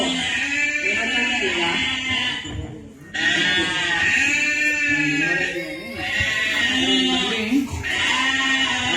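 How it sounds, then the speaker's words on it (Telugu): Sheep bleat loudly and repeatedly, nearby, in a series of long wavering calls with short gaps between them. "మళ్ళీగా గొర్రెలు అరుస్తున్నాయి."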